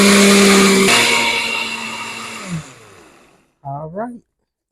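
A kitchen blender whirs loudly while blending spicy tamale sauce, a steady motor roar that slowly winds down and fades out, followed by a brief spoken phrase.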